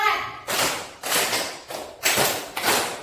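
A primary school class claps out a rhythm, five quick successive bursts of group hand clapping at a steady pace, each a bright, ragged volley from many children, fairly loud in a classroom room.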